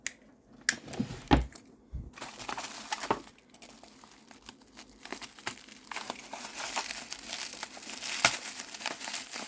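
Bubble wrap packaging around a Thomas & Friends Trackmaster Freddie toy being cut open with a knife, producing close crinkling and crackling plastic with sharp snaps and a few rustling bursts.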